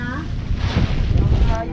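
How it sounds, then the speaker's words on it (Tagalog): Strong wind at an island campsite buffets the microphone with a loud, roaring rumble in uneven gusts, while voices can be heard faintly underneath. "Sobrang lakas ng hangin."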